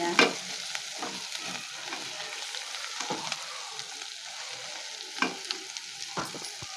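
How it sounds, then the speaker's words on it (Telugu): Drumstick (moringa) pieces with turmeric frying in a pan for a mixed cucumber and tomato curry, giving a steady close sizzle with occasional scraping stirs and clinks, no talking. "ముక్కలు కొద్దిగా బ్రౌన్ కలర్ వచ్చేంత వరకు ఫ్రై చేసుకోవాలండి"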